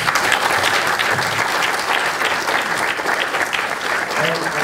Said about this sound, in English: So I would like all of you to give one more round of applause to Andrea.